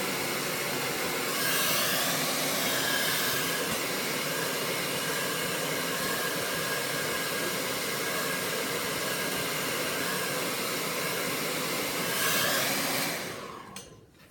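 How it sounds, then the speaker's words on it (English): A blow dryer runs continuously with a loud, steady whooshing roar, its airflow rising and dipping slightly before cutting off at the end. "keep the blow dryer moving constantly"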